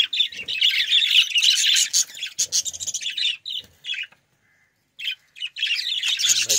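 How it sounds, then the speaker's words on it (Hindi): Pet budgies, small parrots, chirp and chatter in quick overlapping bursts, close and loud, with one brief quiet gap before the twittering picks up again. "खुश खुश, बैठें चहचहा रहे हैं, अपनी मस्तियों में बैठे हुए हैं।"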